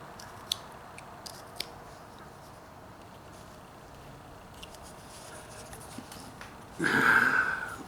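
A knife whittles a small wooden pig, cutting out the ear: faint, sparse clicks and scrapes of blade on wood, close up, ending in a louder rough rasp of a longer cut.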